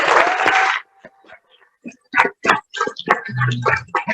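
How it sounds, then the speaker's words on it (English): Audience at a political gathering applauding briefly, a short burst of loud crowd clapping that stops within a second, then someone talks. "So give her a big round of applause."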